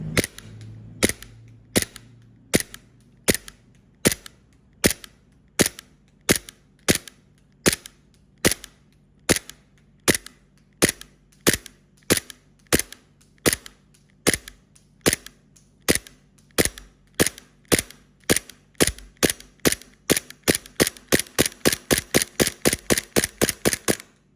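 A custom WE Glock 35 airsoft pistol with a long magazine fires a long string of sharp, loud, close-range shots, evenly spaced at first and then coming faster in a rapid cluster at the end.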